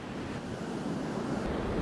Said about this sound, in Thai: สถานการณ์คลื่นลมที่แหลมตะลุมพุกในจังหวัดนครศรีธรรมราชนั้นก็ยังคงรุนแรงขึ้นอย่างต่อเนื่อง